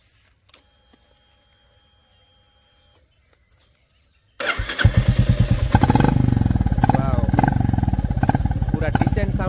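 A Royal Enfield Classic 350 Reborn with a newly changed exhaust starts after a few seconds of near silence with faint clicks, then idles with a loud, close, thumping beat that pulses steadily.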